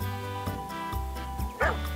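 A farm dog lets out a few short yipping barks spaced through a couple of seconds, moderately close, over a steady low hum.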